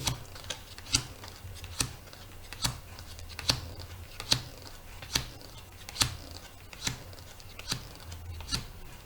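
Cards being cut and dealt one by one onto a table during a tarot-style reading, giving a steady series of crisp snapping flicks about every second, close and fairly quiet with no talking.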